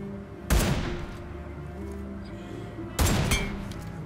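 Two loud, sharp AMR sniper rifle shots in BGMI, a battle royale game, fired about two and a half seconds apart, each a sudden blast with a ringing tail over steady low game ambience.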